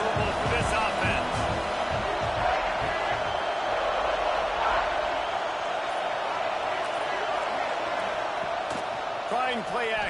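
A dense, steady roar from a big stadium crowd at a college football game between the Arkansas Razorbacks and an opposing offense, holding constant for the whole stretch, with a few louder shouts and whistles rising out of the broad wash of noise.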